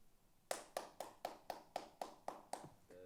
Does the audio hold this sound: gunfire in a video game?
no